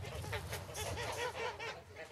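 Several geese honk repeatedly in a noisy flock, their calls overlapping at moderate distance.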